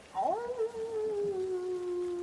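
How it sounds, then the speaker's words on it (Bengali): A jackal's call used as a sound effect in a rainy-night story by a canal: one drawn-out wailing tone that slides upward, then holds steady and slowly falls for about two seconds, clear and alone over a faint hiss. "শেয়াল ডেকে উঠল"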